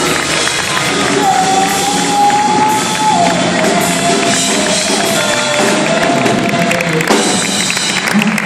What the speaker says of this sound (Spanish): ¡Un aplauso bien grande!